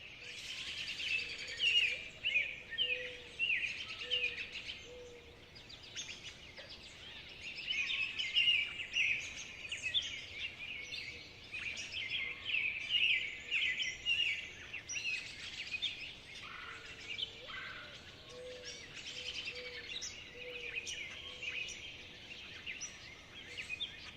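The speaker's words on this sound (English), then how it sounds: "Listen to those birds, man." Several birds sing and chirp continuously, overlapping high trills and tweets filling the air at moderate distance, with no talking.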